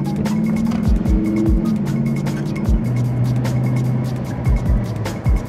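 A Dodge Challenger car being driven, a steady engine drone with a low tonal hum that shifts in pitch, plus intermittent thumps and bumps from the road, close and fairly loud.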